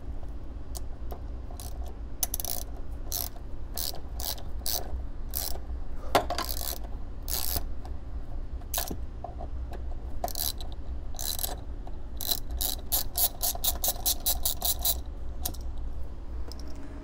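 A ratchet turning a T40 Torx bit to remove trim bolts in a BMW 4 Series Gran Coupe gives repeated bursts of fast, close metallic clicking, with pauses between runs over a low steady background.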